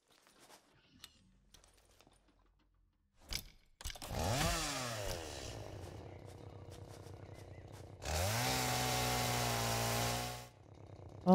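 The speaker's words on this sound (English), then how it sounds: "Equipment volume. Chainsaw volume." A chainsaw in the video game Satisfactory revs up with a rising whine, idles, then roars again at steady full throttle for a couple of seconds before cutting off, loud and close.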